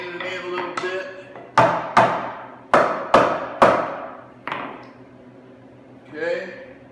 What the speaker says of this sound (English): Let me hammer this leg in and in a little bit.